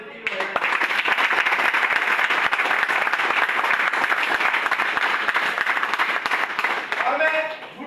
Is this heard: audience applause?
yes